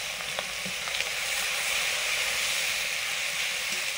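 Steady close sizzle and hiss as turmeric and chili mixed in water hit a hot pan while cooking a fish curry with shola kochu, continuous broadband frying noise without talk.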